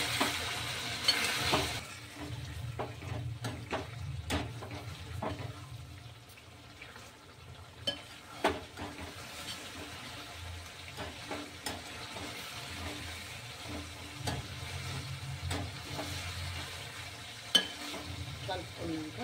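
Chicken being stirred in a pan with chili powder and coriander powder for jeera chicken fry, a steady soft sizzle with scraping spoon strokes and occasional clinks, close and moderately quiet, without talk.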